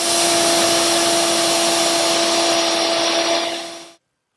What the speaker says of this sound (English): same router bit, to make a dado for this vertical panel in the knee hole